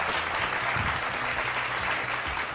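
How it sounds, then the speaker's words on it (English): Steady audience applause from a seated crowd at a business presentation, dense and continuous at moderate level with no talk over it. "Can we hear a round of applause?"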